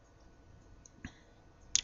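A computer mouse clicks during work in CAD software. Two crisp, close clicks sound over quiet room tone, the second sharper than the first.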